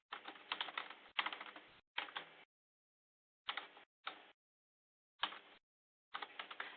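Keystrokes on a computer keyboard as a username is typed, coming in several quick bursts of clicking separated by short silent pauses, close and fairly quiet, with no one talking.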